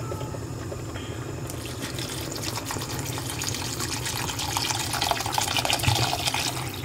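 Water drains out of a cooking pot into a sink during preparation of pastelon de maduros, a soft, steady trickling and splashing rush that grows slightly louder and busier toward the end.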